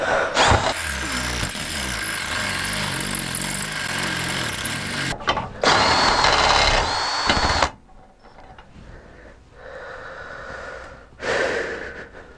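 A power drill bores a hole while building a custom Simson SR2 moped, running loudly for several seconds, stopping, then whirring again in shorter bursts with quieter gaps and some heavy breathing nearby.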